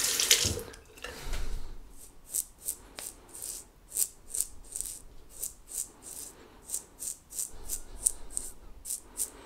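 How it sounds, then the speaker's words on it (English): Cold tap water rinsing a double-edge safety razor, a rhythmic series of short splashing bursts as the razor is passed under the stream, fairly close and with no speech. "So for a rinse, no issues at all. Really nice cold rinse now."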